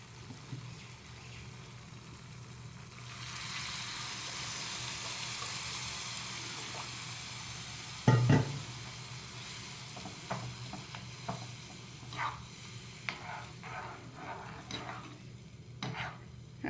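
Water poured into a pan of spiced garlic gravy for Baroda-style usal, setting off a loud hiss and sizzle that settles into steady frying with scattered stirring clinks and pops.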